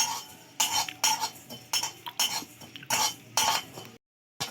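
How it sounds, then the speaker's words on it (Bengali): Dry fennel seeds stirred in a preheated wok with no oil, giving a series of close scraping, rattling strokes in an uneven rhythm, followed by a short silence near the end. "নাড়াচাড়া করে খুব ভালো করে ভেজে নিচ্ছি।"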